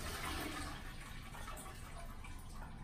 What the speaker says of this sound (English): that's probably the flush